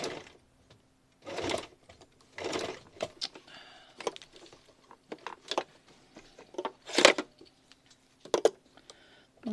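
A sewing machine stitches through thick patchwork seams in stop-start bursts of rapid mechanical whirring, close and fairly loud, with uneven pauses between runs.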